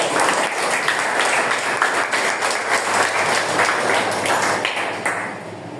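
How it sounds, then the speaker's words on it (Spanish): Congregation members clap their hands together during a church sermon, a dense, sustained burst of applause filling the room for several seconds before thinning slightly at the end. "Dale palmas al Señor, aleluya."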